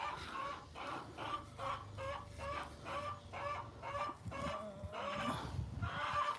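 A black chicken clucking in a backyard, a run of rhythmic repeated clucks close by over a low rumbling background, with no talk.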